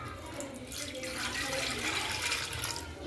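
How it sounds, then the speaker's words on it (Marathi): Water pours softly and steadily into a pressure cooker for cooking dal, a quiet continuous splashing trickle with no voices. "आपण पाणी घेऊया कुकरमध्ये थोडंसं"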